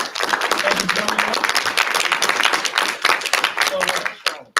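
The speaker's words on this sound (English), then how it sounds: "if you will all join me in giving Mr. Gagnon a hand and applause" Audience applause for a speaker being introduced, a loud, even burst of clapping that carries on for several seconds and then breaks off sharply.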